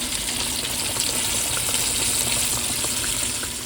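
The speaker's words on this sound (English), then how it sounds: "you're just going to drop it in the hot grease. Just like that." Floured pork chops dropped into hot grease in a small pan, frying with a steady loud sizzle and bubbling hiss that carries on evenly throughout.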